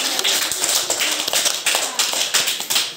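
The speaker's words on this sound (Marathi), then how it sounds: "टाळ्या वाजवा" Hands clapping in a classroom of young schoolchildren, a rapid run of sharp claps that goes on for about three seconds, loud and close and heard without any voices.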